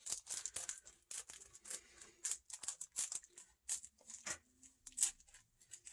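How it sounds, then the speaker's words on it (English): Close, crisp snipping and rustling of scissors cutting and handling thin screen tone sheets, in irregular bursts of short strokes. "I'm just going to get my handy scissors here."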